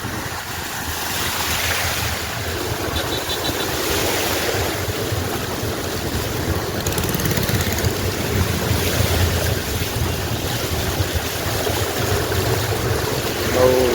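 Flood water rushes across a road near a river, a loud, continuous churning wash with wind buffeting the microphone throughout.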